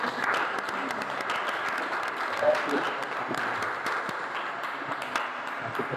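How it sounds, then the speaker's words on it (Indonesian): Classroom students clapping together for their teacher, a fairly loud, steady burst of many small hands lasting several seconds, with faint voices mixed in. "kasih tepuk tangan"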